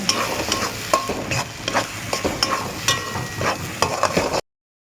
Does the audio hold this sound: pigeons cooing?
no